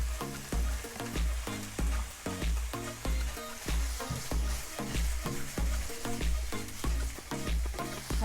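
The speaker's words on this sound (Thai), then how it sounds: "จากนั้นเราก็จะใส่เนื้อลงไปผัดตามเลย" Beef sirloin is stir-fried in a pan with shrimp paste, heard as steady, close scraping stir strokes about twice a second over a continuous sizzle.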